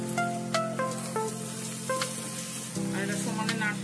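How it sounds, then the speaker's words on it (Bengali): Muri ghonto being stirred in a pan, a steady sizzle with regular spatula scrapes against the metal, while a steady tonal hum runs beneath, no speech. "আর এটা সমানে নাড়তে হবে, নাহলে তলায় লেগে যাবে।"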